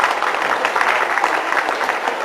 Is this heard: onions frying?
no